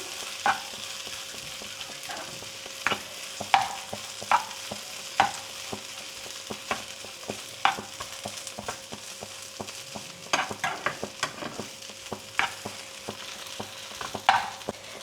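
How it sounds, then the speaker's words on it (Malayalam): A spoon stirs okra thoran, a dry Kerala-style stir-fry, in a pan: repeated sharp scrapes and clicks against the metal over a steady soft sizzle, close and fairly loud, with no talking. "ഇളക്കി കൊടുക്കാം"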